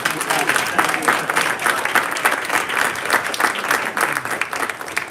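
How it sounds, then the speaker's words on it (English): An audience at a Morris Plains council meeting and centennial reenactment claps for the town crier, a loud, sustained burst of dense applause with faint voices mixed in. "One more round of applause for the town crier."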